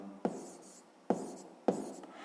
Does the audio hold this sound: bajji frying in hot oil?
no